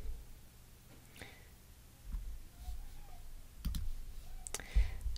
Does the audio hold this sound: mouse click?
yes